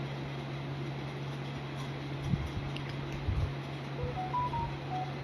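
A telephone number is keyed in on a phone, a short run of separate dialing tones sounding one after another toward the end over a steady low hum and background noise.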